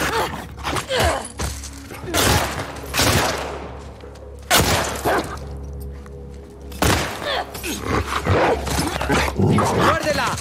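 A dog barks and lunges in an attack in The Last of Us Part II, with loud bursts of barking, thuds and impacts amid combat noise, while voices shout over the struggle.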